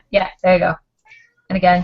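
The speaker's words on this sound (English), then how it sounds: "I heard a cat." A cat's meow sounds faintly between two bursts of close conversational speech, a short, thin cry that is much quieter than the talking around it.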